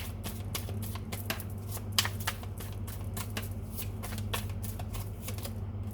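Tarot cards being shuffled and drawn by hand, a dense, crisp run of rapid riffling flicks and slaps close up, steady throughout over a low constant hum, with no talking.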